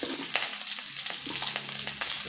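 Ginger browns in a hot frying pan, a steady bright sizzle with faint stirring scrapes, close up and with no talking.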